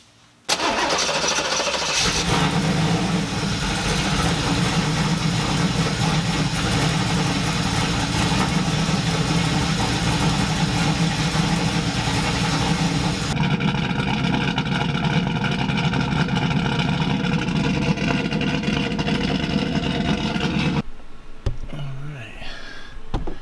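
A third-generation Camaro engine cranks and fires, then runs loud and steady at idle for about twenty seconds, its tone shifting partway through before cutting off abruptly.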